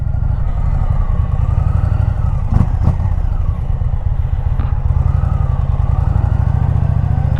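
A motorcycle engine idles and runs with a steady, loud low throb after a refuelling stop, with occasional clattering knocks close by and no talking.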